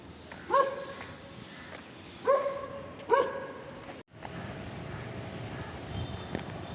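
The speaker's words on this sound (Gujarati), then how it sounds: "કૂતરો જો આમ કૂતરો." Three sharp dog barks ring out at a moderate distance on an Ahmedabad street along the metro route, spaced unevenly, followed by a steady low roar of passing traffic or engine noise.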